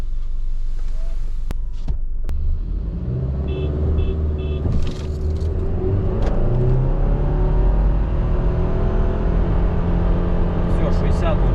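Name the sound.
Subaru Forester turbo engine revving on a two-pedal launch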